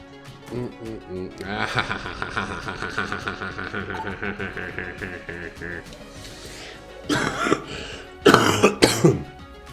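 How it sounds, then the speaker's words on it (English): A person talks at length, then lets out a few short dry coughs close to the mic near the end. "like wimpy dry cough. It's still gross."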